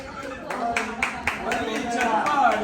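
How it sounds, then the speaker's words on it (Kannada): An audience at a reunion award gathering claps in a brief burst of sharp, evenly spaced claps, fairly close, with talk mixed in around them. "ಚಪ್ಪಾಳೆ"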